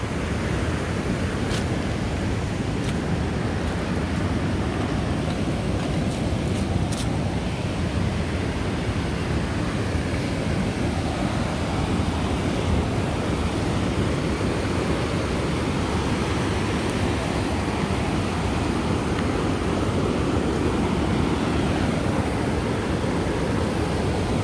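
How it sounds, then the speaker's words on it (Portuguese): Steady, broad rushing of falling water roars without pause, a constant full wash of noise with a few faint clicks early on. "Cachoeira bonita, pessoal."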